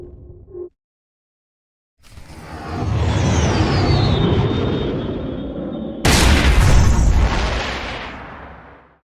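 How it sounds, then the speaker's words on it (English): An Imperial ship blows up in a Star Wars smuggler video game: after a short cut-off sound and silence, a deep rumbling explosion swells, then a second harder blast hits and roars before fading away. "What kind of morons blow up their own ship so it don't get looted?"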